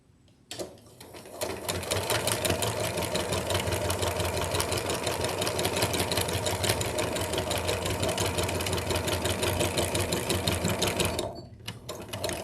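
A sewing machine runs at high speed while a quilt is stitched, a loud, fast, steady mechanical whirr that goes on for about ten seconds before stopping abruptly and then starting again briefly.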